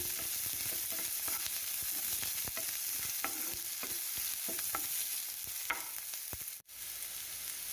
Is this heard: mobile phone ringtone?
no